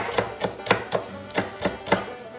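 Knife chopping green onion tops on a board, about nine crisp, evenly spaced cuts in a steady rhythm, close and fairly quiet with no talk.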